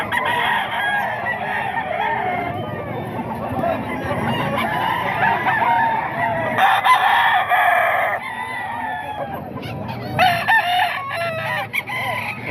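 Roosters crow repeatedly among clucking fowl, several hoarse calls rising above a busy farmyard background, with someone speaking intermittently nearby.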